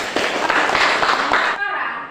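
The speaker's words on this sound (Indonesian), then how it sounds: "Bagus, mari kita tepuk tangan." Hands clapping together in a classroom, a dense burst of claps from pupils lasting about a second and a half before cutting off into quieter room tone.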